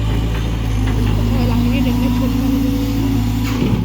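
A Cat 320GC excavator with a Cat C4.7 turbo engine idles at a road-widening site, a loud steady low rumble that runs throughout while someone talks over it.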